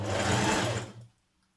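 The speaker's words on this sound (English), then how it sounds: "stitch your yoke to your front bottom body" A sewing machine runs a steady, close whirring stitch through silky blouse fabric, joining the yoke to the front body at a 1.5 cm seam, then stops abruptly, leaving near silence.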